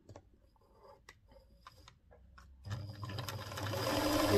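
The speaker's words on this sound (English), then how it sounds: "Then I'll put it under the machine. Then let's start sewing." A sewing machine is readied with light handling clicks, then starts stitching horsehair braid onto a skirt hem, a continuous motor whir that builds louder toward the end, nearby.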